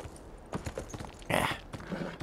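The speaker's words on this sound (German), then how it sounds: "Pferd. Hallo, Pferd." Horse hooves clip-clop in the video game Beyond: Two Souls, a few soft irregular steps at moderate distance with a brief louder burst of movement midway.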